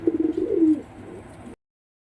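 A pigeon at a pigeon sale gives a single low, throaty coo that swells and fades within about a second, close by with no talk over it.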